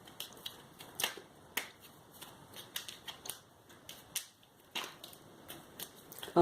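Tarot cards are shuffled and flicked close by in a quiet room, a run of soft irregular riffles and sharp card snaps scattered throughout.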